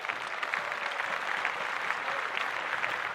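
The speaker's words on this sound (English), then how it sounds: "So clap it up for them" Applause for Paralympic athletes: a steady, fairly soft wash of many hands clapping, even and continuous without voices over it.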